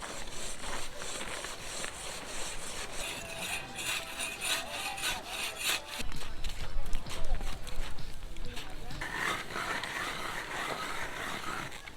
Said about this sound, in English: they are hacking away at it with saws and hoes and shovels to get the snow released